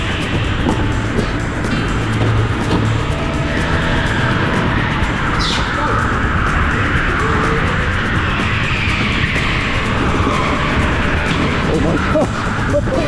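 Go-karts race around the indoor TeamSport Eastleigh kart track, their engines droning loud and continuous from the driver's seat, with a constant roar and rumble that never lets up.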